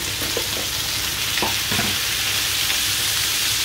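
Potatoes and frozen mushrooms frying in a pan give off a loud, dense, continuous sizzle with a few faint scraping touches near the start.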